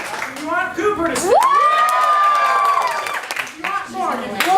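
Clapping and cheering from a crowd voting at an improv pocket show, with shouted whoops and a long sustained yell riding over the applause, lively and close.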